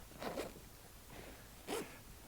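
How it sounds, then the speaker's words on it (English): An old zipper on the seat cover of a 1943 Willys MB jeep is worked in three short, rasping pulls, quiet and close against a faint background hiss. "That zipper looks old."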